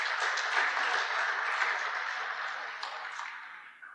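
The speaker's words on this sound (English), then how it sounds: "I think let's give him a nice round of applause." A no-till farming conference audience applauds a yield winner, with broad, even clapping from a room full of people that slowly tapers off over four seconds.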